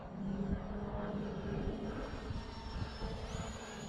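A small E-flite UMX F-86 Sabre RC jet passes by in flight, a steady continuous whir of its electric ducted fan that holds through the whole stretch at moderate loudness, with no voices over it.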